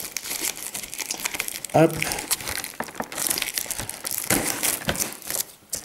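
Plastic wrap being torn and crinkled off a Pokémon Snorlax GX card box, with a sharp rip near the middle among steady close crinkling, while a person speaks in French.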